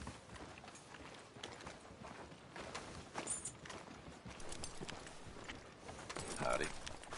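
Horse hooves clip-clopping at a walk in the town of Rhodes in Red Dead Redemption 2, a steady rhythmic plodding at middle distance under ambient game noise and talking voices.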